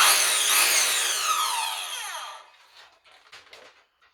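A Ryobi power saw tears through wood with a loud, bright, continuous cut for over two seconds, then drops away to a quieter whirr and scattered faint rattles as the blade spins down.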